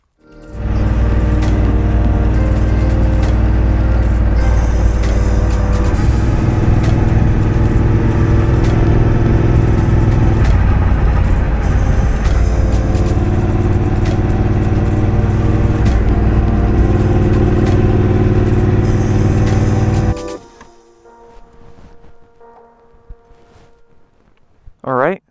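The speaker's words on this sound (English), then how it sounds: "So let's jump back on the bobber." A Triumph Bobber motorcycle rides along back roads, its engine droning loud and steady with wind rush for about twenty seconds before cutting off, leaving quiet outdoor ambience with a faint voice at the end.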